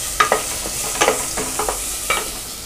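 Soup ingredients sautéing and being stirred in a pan, with soft sizzling and several sharp scraping stir strokes at irregular intervals, close and moderately loud with no talk.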